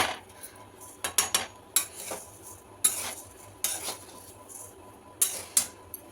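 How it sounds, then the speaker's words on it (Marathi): Lentils dry-roasted and stirred in a pan for chakli flour: a spoon scrapes and clinks against the metal in irregular bursts, with sharp ticks and a faint sizzle in between. "खरपूस चांगलं भाजून घ्यायचं।"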